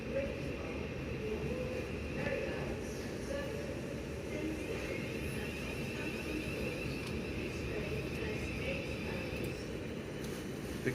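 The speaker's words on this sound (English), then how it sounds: "Platform 5, a class at 707 arrives from what I think is Shepperton." A Class 707 electric train arrives at platform 5, producing a continuous low rumbling roll with faint higher squeals above it, while a voice talks over the scene.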